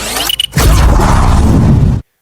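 A huge explosion hits a battlefield in a He-Man film: a few sharp clicks, then a sudden loud, rumbling boom that holds for about a second and a half before cutting off abruptly.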